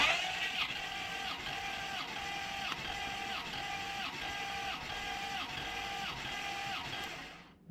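An engine cranking over on the starter during a compression test, a steady rhythmic whirring with regular pulses lasting about seven seconds, fairly close, with no talking.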